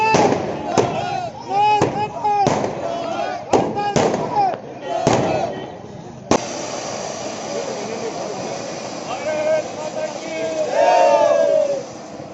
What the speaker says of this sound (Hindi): गुरुवार रात वकीलों के साथ कस्बे वासियों ने मिलकर आतिशबाजी की